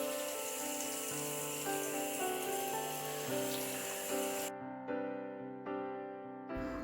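Breaded chicken lollipops fry in hot oil with a steady bubbling sizzle that fills the clip, then drops to quieter crackling pops near the end. Nobody speaks.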